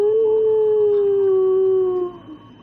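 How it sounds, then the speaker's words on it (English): A long, loud wolf-like howl from a tabletop horror game session holds a steady pitch, then slides gently downward and fades, heard alone without talk. "you are almost certain that you heard a howl of some kind"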